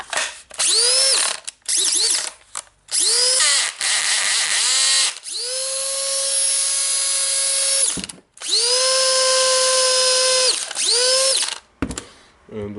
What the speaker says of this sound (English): it sounds a little bit noisy, so the armature is heated